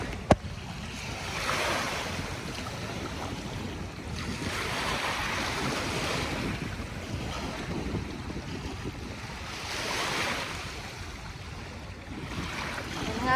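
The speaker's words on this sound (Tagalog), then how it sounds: "medyo maalon nga po at malakas ang hangin" Rough sea waves roll onto Dolomite Beach on Manila Bay under strong wind, with broad surf swelling every few seconds over a constant gusty roar.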